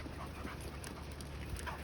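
Dogs panting just after being let out of their kennels for exercise at home, a steady, breathy, close panting that runs the whole time at a low level, with faint whimpers mixed in.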